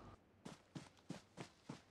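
Footsteps in the video game PUBG, five evenly spaced soft thuds about a third of a second apart, faint and close, with no talk over them.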